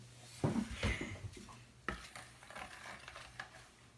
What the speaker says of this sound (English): How about we get a big spoon to stir it?